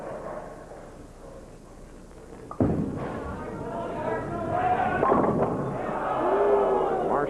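Bowling ball crashing into the pins in a 1991 professional televised match, a sudden loud thud followed by rattling pin scatter that leaves the 7-pin standing, with a crowd and commentary underneath.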